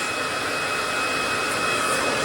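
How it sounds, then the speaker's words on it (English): A handheld hair dryer blowing steadily on hair during styling, a loud continuous whooshing roar with a faint whine, close and unbroken throughout. "I'm just going to dry that in place"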